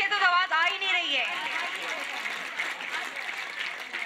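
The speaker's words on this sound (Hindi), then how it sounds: "अब भरपूर तालियां तब तक जब तक सर स्टेज नहीं छोड़ते।" Audience clapping at a school annual program, steady applause spreading through the hall after a voice at the start, continuing at moderate level.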